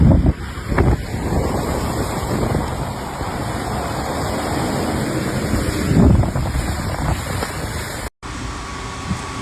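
Wind and rushing flood water buffet the microphone on a flooded Brooklyn street, a steady loud roar and splash filling the scene throughout with brief gusty bumps, then a short dropout near the end.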